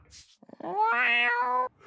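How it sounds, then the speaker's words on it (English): A cartoon cat from the animated series Steven Universe lets out a single clear, drawn-out meow, near and fairly loud, after a brief soft sound. "He tries it, and his finger turns into a cat."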